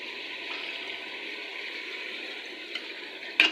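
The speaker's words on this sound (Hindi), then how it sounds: "थोड़ा सा मैंने इसमें पानी डाला है।" Water poured into a pan of cooking masala, a steady close hiss and gentle bubbling that holds evenly, ending with a brief sharper clatter.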